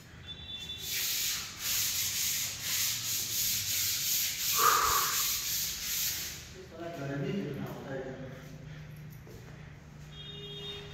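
Metal being polished on a pipe, a close, steady rubbing and grinding hiss that runs for several seconds and then stops, followed by some quieter background noise and faint voices.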